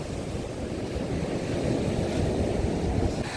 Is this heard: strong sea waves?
yes